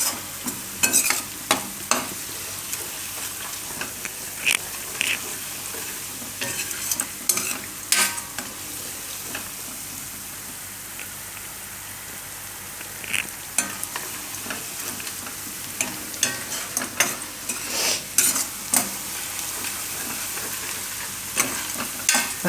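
Chopped garlic roasts in a hot pan for a Gujarati garlic raita, a steady low sizzle broken by frequent scraping stirs of a spoon against the metal, close and continuous with no voices.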